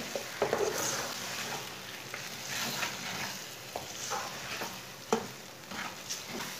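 Eggs frying in a pan sizzle steadily while a utensil stirs them, giving intermittent scraping clinks close up over a constant hiss, with no talk.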